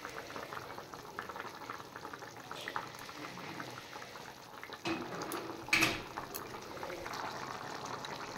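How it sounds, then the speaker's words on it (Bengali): A pot of kajli fish curry gravy bubbles on the stove in a soft, quiet simmer, with faint popping and a couple of brief louder clinks or splashes partway through, and no talking. "বন্ধুরা, ঝোলটা ফুটে গেছে।"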